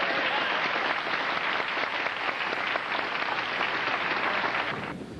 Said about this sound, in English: Let's have a round of applause for Michael Flynn